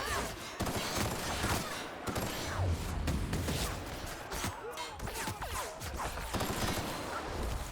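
Repeated gunshots and automatic bursts in The Outer Worlds, sharp cracks and rattling volleys scattered throughout a busy combat scene, close and loud.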